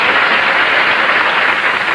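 Studio audience at a 1962 NBC primetime game show applauding a newlywed contestant, a loud, steady wash of clapping filling the whole stretch without pause.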